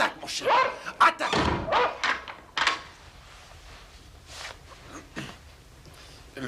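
A dog barks and lunges in a short burst of loud, close barks with thumps and scuffling, then things settle to quieter rustling and a few faint sounds.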